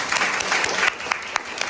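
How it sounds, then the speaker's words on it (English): An audience claps for a panel discussion at its close, a brief burst of applause with a few sharper claps standing out, some crowd murmur mixed in. "Can we get a round of applause?"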